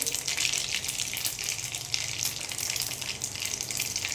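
Mustard seeds and cumin sizzling in hot oil in a pan while making a quick potato chutney, a steady, bright hiss and crackle that stays fairly loud and even throughout, with no talking.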